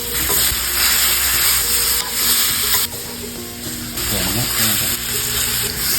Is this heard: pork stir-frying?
yes